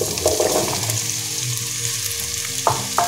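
Squash cubes go into a pan of sautéed onion and sizzle loudly and close, with frying crackle and a few stirring scrapes near the end.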